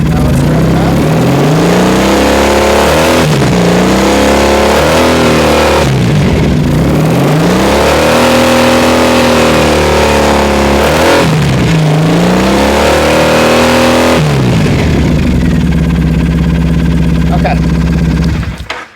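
A Triumph Thruxton motorcycle engine revs up repeatedly from idle in loud, rising and falling swells, then settles back to a steady idle before cutting off.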